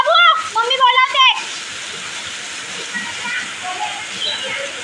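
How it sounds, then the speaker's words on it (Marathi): Heavy rain in Konkan falls as a steady, dense hiss that fills the clip, with a voice calling out over it at the start before the downpour carries on alone. "खूप पाऊस पडत होता तुम्हाला बघायला मिळेल."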